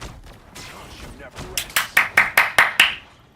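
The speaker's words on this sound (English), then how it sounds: "I can't believe I have to clap for that" Hand clapping, about seven sharp, evenly spaced claps that come close and loud after a few seconds of softer background sound and faint talk.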